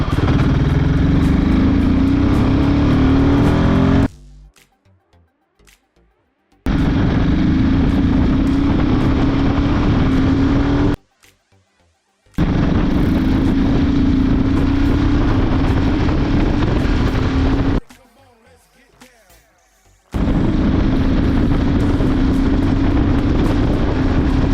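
A Royal Enfield Himalayan 450 motorcycle roll-on accelerating in three loud bursts, the engine note climbing steadily through each gear pull, separated by brief near-silent gaps.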